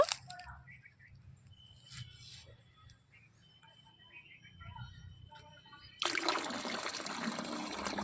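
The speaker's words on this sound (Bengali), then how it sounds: "তো প্রথমে এর উপরে যে জলটা, এটা কিন্তু আমি ফেলে দেব।" Water poured off settled homemade potato starch in a kitchen, starting with faint trickles and clinks, then a sudden steady splashing pour in the last couple of seconds, close and fairly quiet.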